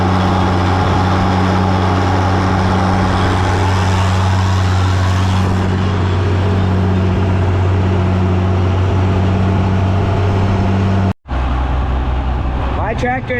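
A Massey Ferguson 620 tractor engine runs loud and steady with a low, constant drone and deep harmonic hum, cutting out briefly near the end before resuming.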